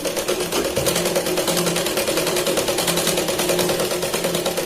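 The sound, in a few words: sewing machine stitching a Katori blouse sleeve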